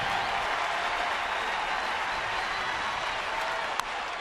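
A large baseball stadium crowd applauds and cheers in a steady, dense roar during a perfect game, continuous and even throughout with a single sharp crack near the end.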